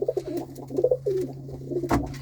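Pigeons cooing nearby in a run of soft, throaty repeated coos over a low steady hum, with a brief knock near the end.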